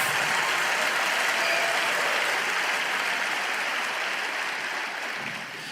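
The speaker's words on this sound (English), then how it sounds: "Clap your hands and shout about it just a minute." A church congregation applauds continuously with dense, sustained clapping that fades slightly toward the end.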